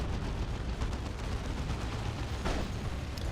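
Plasma cannon fire in Dawn of War II: Retribution, a dense run of rumbling, booming blasts from a Space Marines battle, continuous and loud, with one sharper crack standing out partway through.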